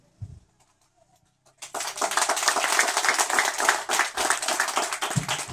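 A church congregation bursts into sustained applause after a quiet pause, dense and lively clapping that holds steady for several seconds in a reverberant room, with faint voices underneath.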